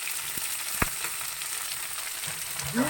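Shallots and green chilies frying in a pan give a steady close sizzle, broken by a few light clinks and stirring scrapes, with no one talking.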